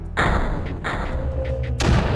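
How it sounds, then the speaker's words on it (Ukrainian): Mortar fire in the strategy video game Creeper World: a deep thump launches at the start, followed by a rumbling low boom and a second heavy impact near the end, loud and close, with no talk. "А мартирку я зараз лупану сюди. Нехай вона собі стріляє там."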